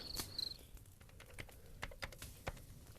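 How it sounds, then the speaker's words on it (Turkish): Quiet, close computer keyboard typing, a run of irregular key clicks with no voices. "Klavye sesi."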